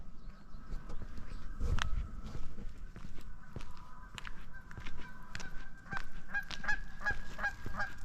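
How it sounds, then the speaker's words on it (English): Geese honk repeatedly at close range, loud nasal calls in irregular bursts, with rustling and footsteps in the background. "Geese are noisy creatures."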